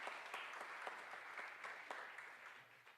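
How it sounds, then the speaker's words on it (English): Steady, fairly faint applause comes from a crowd at a 40 Under 40 awards gathering. The clapping blends into a continuous wash with a few individual claps standing out. "Let's give everybody a big round of applause."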